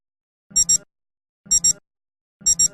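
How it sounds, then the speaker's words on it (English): A Citizen Eco-Drive titanium perpetual chronograph atomic watch sounding its alarm tone: three evenly spaced double-beep bursts about a second apart, bright and electronic, close and clear with no voices. "the alarm tone will sound for 15 seconds at the time set"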